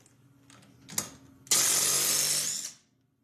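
A Dewalt cordless 3/8 impact driver runs on car lug nuts, with a couple of brief clicks and spin-ups first, then one sustained loud close hammering whir for about a second before stopping, no talking.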